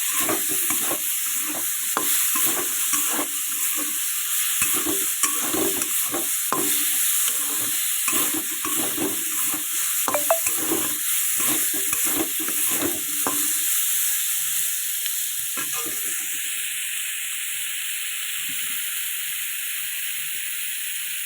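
Tomatoes fry and sizzle in a pan while being stirred, with a steady hiss and frequent scraping strokes of the spoon through most of the stretch, thinning to a quieter simmer toward the end.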